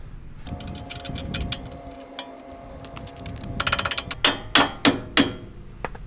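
An aftermarket upgraded bolt is hammered into the lower shock mount of a 2005–2023 Toyota Tacoma, with scattered metallic taps early on and then a quick burst followed by several heavy, evenly spaced strikes close by, with no talking.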